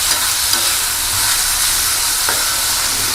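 Ivy gourd (dondakaya) pieces fry in oil in a pan with cumin for a pounded chutney, giving a loud, even, continuous sizzle with a few faint stirring scrapes.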